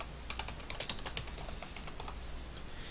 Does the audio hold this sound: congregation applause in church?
no